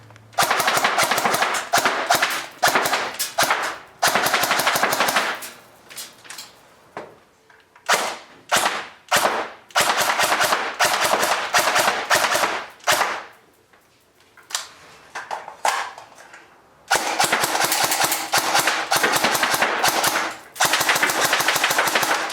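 Ares L1A1 SLR airsoft rifle fired in rapid bursts of sharp clacking shots, loud and close, with short pauses between long strings of fire.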